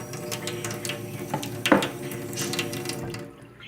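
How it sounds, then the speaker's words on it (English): Tap water runs steadily into a bowl that is being filled for a budgie's bath, a continuous close splashing with a brief louder gush partway through. "fill it up with water"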